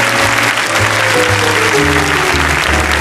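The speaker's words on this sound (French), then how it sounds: "on applaudit très fort le déménageur" Loud, dense applause from a 1977 French TV studio audience fills the whole stretch, steady and unbroken, with musical tones sounding beneath it.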